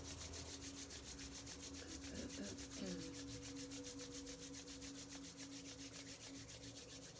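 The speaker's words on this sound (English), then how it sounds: "bringing the palms of your hands together. Begin to rub them together vigorously." Palms of the hands rubbed together vigorously, a steady continuous swishing friction that is faint and close, with no talking over it.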